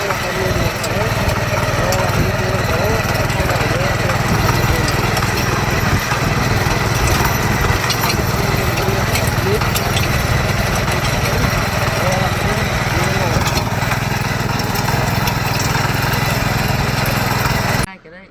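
A walk-behind tractor with a 7 horsepower motor runs steadily and loudly throughout, a continuous close engine drone that cuts off abruptly at the very end.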